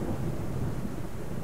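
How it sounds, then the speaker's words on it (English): Rain arrives in the survival game Subsistence as a dense, constant rush of rainfall and wind with a deep rumbling undertone, steady and close for the whole moment. "And here comes the rain."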